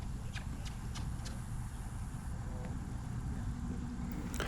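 A two-year-old horse walking at a Missouri trail horse sale, a few light, regular hoof clops early on, then fading under steady background rumble and low engine noise.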